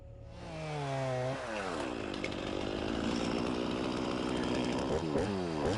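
A chainsaw revs up and cuts through a limbed log, with a loud, close, sustained whine that bogs and rises again under load near the end.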